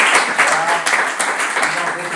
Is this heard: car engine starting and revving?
no